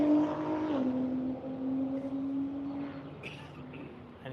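A Camaro and an NSX race on a circuit, the engine drone sliding down in pitch under braking and then holding a steady, moderately distant tone.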